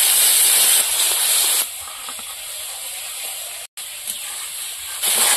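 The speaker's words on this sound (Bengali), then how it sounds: "ধনে গুঁড়ো, জিরে বাটা, সামান্য একটু জল দিয়ে মশলাটা কষিয়ে নেবো ভালো করে।" Spice paste of ground coriander and cumin with a little water frying in a pan, a loud steamy hiss that drops to a quieter sizzle partway through and then swells again near the end.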